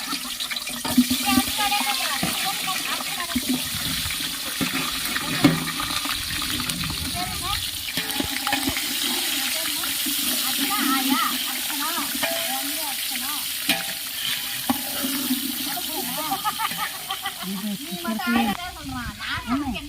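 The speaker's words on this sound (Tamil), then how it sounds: "இப்போ வந்து மசால் வச்ச கத்திரிக்காய் வந்து நம்ம எண்ணெயில் போட்டுக்கலாம்" Masala-stuffed brinjals frying in hot oil for an oil brinjal kuzhambu, a steady close sizzle with occasional stirring and clinks, while someone talks throughout.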